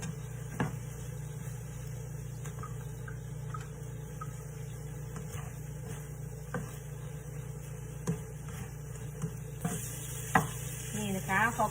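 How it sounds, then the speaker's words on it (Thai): Shrimp stir-frying in a pan, a soft sizzle with occasional spatula taps and scrapes over a steady low hum, fairly faint and close, without talk. "อันนี้เราก็จะผัดใส่กุ้งนะคะ"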